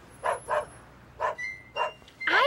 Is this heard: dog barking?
yes